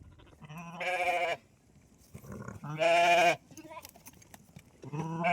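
Sheep and goats on a farm pen, including a male goat, bleat loudly in three long, close calls separated by quieter gaps with faint background farmyard noise.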